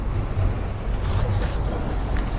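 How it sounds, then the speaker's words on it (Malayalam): A heavy road vehicle, likely a truck or bus, rumbles steadily across the Thanneermukkom bund road in Kerala, a low continuous drone with a brief hiss like an air brake, heard outdoors with no talking. "വണ്ടി പോകുന്നുണ്ടോ മോളിൽ കൂടെ?"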